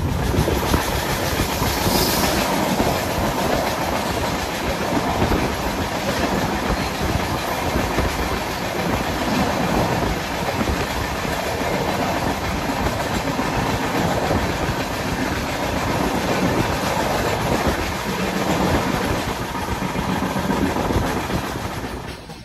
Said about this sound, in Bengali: ট্রেন একদম ঘাটশিলার কাছাকাছি চলে এসছে আর ঢুকছে ঘাটশিলা রেলওয়ে স্টেশন